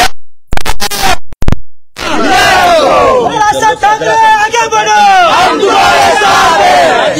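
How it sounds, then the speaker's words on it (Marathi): MNS party workers shouting and chanting in celebration outside a house, a loud massed crowd of voices raising rhythmic battle-cry slogans after a few sharp bursts at the start. "जल्लोष हा आमच्या मराठी माणसांचा विजयाचा आहे"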